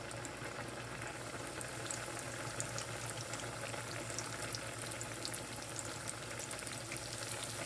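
Appetizers fry slowly in a pan of oil over turned-down heat, giving off a steady, even sizzle and fine crackling that holds without a break.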